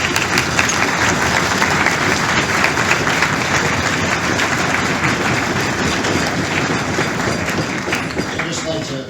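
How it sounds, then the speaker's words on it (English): Steady, dense applause from a large crowd at a military dining-out event, continuous and loud throughout without pause. "Can we give them a round of applause?"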